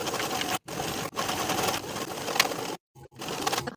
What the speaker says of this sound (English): Sew the collar in place from the left to the right finished edges of the 5/8 inch seam allowance.